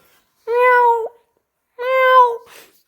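Two clear cat meows, each about half a second long, separated by a short pause, close and fairly loud with no talking.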